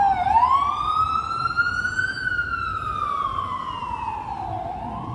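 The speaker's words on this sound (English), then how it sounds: "We'll wait till the ambulance goes by" An ambulance siren wails loud and close on a Manhattan street in Midtown, its rising and falling tone sweeping steadily as the vehicle passes, with a shift in pitch and traffic rumble underneath during a rainy Saturday.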